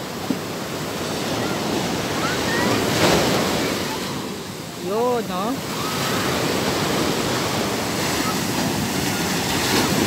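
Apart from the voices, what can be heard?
ocean waves crashing at high tide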